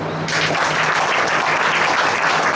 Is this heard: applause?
yes